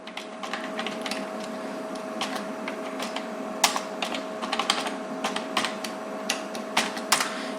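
Fingers type C code on a computer keyboard, a steady run of fast, close key clicks with a few louder taps over a faint constant electrical hum, with no talking.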